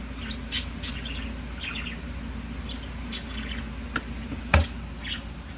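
Budgies in a travel cage give a few faint, scattered chirps and tweets, with a small rattle or tap near the end, against a steady low background hum.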